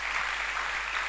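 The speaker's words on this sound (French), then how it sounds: "On acclame le Seigneur pour les anniversaires." A church congregation applauds and cheers for birthdays, a dense, continuous wash of clapping filling the room at steady volume.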